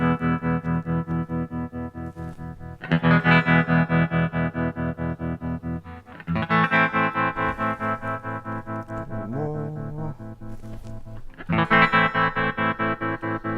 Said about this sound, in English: Starting to get pretty square there, choppy